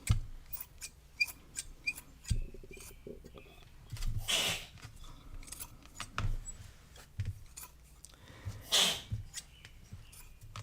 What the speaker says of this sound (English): Who's doing that sneezing?